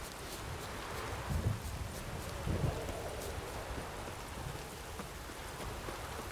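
Steady rain falls in The Witcher 3: Wild Hunt, a constant broadband patter with a few soft hoof-like thumps mixed in at low level.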